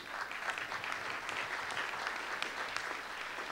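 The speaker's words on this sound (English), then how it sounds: "And I will give Randy a round of applause" An opening-night crowd at a city-planning presentation in Tampa gives a round of applause, dense continuous clapping from many people, fairly even and sustained, with no speech on top.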